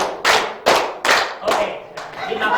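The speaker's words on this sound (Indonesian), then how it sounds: "Jadi bukan hanya saya tepuk-tepuk saja" Loud hand claps and taps near the listener in a steady beat, about five strong strikes at an even pace, with a voice audible under the rhythm.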